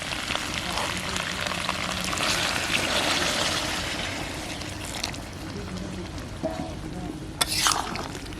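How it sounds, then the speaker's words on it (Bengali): Hot water poured into a pan of browned duck curry with potato, giving a loud, steady sizzling hiss that gradually fades to a softer bubbling, with a few sharp clinks near the end. "এখন গরম জল দিয়ে দেবো।"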